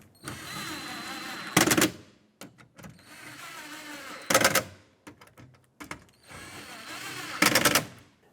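An impact power tool tightens bolts on a 2009–2014 Ford F-150 window regulator and motor assembly, firing three loud, short rattling bursts separated by quieter handling noises.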